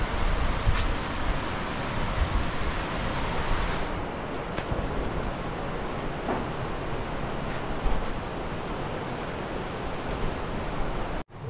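Steady broadband rush of the Anburayan River in Benguet, Philippines, continuous and fairly loud with no talking, cutting off abruptly at the end.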